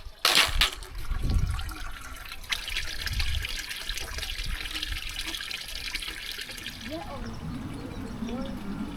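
Running water on a windy mountain hike through Czech forest, a steady broadband rush that holds through the whole stretch, with an abrupt louder burst near the start and faint voice-like sounds over it.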